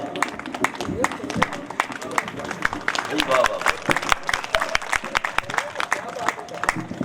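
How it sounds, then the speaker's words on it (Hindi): Applause from the audience at a kavi sammelan (Hindi poetry gathering) in Pandhurna, Madhya Pradesh, held for a birthday celebration: scattered, uneven hand claps ring out at close range, mixed with crowd noise and a voice talking over them. "आप सभी की भरपूर तालियों के बीच में मैं आमंत्रित करता हूं"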